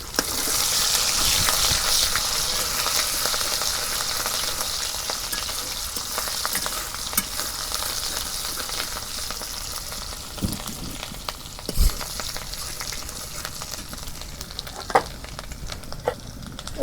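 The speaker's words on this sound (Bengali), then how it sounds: "তেল গরম হচ্ছে, এখন আমি পেঁয়াজ কুচি দিয়ে দিলাম।" Chopped onions hit hot mustard oil in a pan while beef is being cooked, giving a loud, steady sizzle that starts strong and slowly eases, with occasional stirring clanks.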